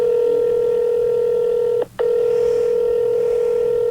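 Telephone call to the vet, a steady, loud tone on the line that breaks off briefly partway through and then resumes, heard alone.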